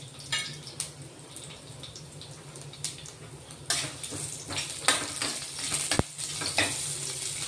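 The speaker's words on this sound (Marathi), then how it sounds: "तेल गरम झालेलं आहे, जिरं टाकून घेऊ." Garlic and cumin fry in hot oil, a close, continuous sizzle broken by bursts of louder crackling and spattering as the spices are stirred, with a sharp clink of a utensil near the end.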